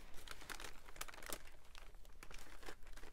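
Tissue paper crumpled by hand after soaking up watercolour on altered playing cards, a run of soft, close crinkling and rustling bursts with no voices.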